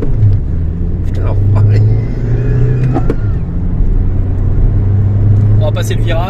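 A VW 1.9 TDI car with a turbo cut-off fault accelerates under full turbo load, giving a loud, close, continuous engine rumble and drone inside the car while voices talk over it.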